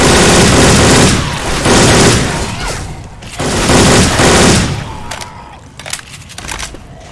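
Video game gunfire from Syphon Filter weapon sounds in Left 4 Dead 2: loud sustained bursts of automatic fire in two long volleys, then scattered single shots and clatter near the end.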